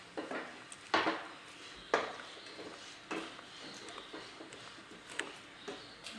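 Wheat rava stirred with carrot and chickpeas in a pan, heard as scraping, clinking spoon strokes against metal at an irregular pace, close and fairly quiet, with no voices.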